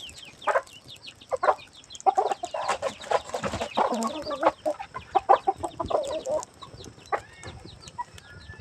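Chickens cluck and squawk close by in a rural home setting, making busy overlapping bursts that rise and fall in irregular rhythm and then thin out toward the end.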